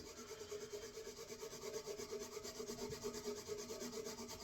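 A scour pad rubbed back and forth over the frets of a ukulele makes a soft, rhythmic scrubbing, faint and close, with steady repeated strokes and no talk.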